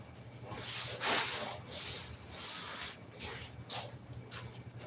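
Spray adhesive from an aerosol can is sprayed again in several bursts of loud close hissing, each a second or so long, over a steady low hum.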